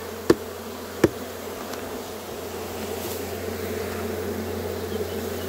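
Honeybees buzz around an open hive colony in a steady, close, droning hum, with two sharp knocks early on and no talking.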